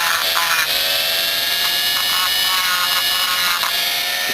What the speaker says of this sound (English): I'm doing it with a Dremel because you're probably going to do it with a Dremel.